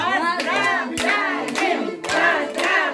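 Applause from an audience at a charity foundation concert, after a girls' Khakas choir finishes, with steady clapping mixed with voices calling out over it throughout.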